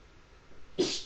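A single sharp human sneeze bursts out near the end after quiet room tone, close and brief.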